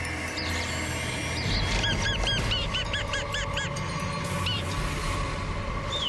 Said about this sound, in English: This is a pale chanting goshawk.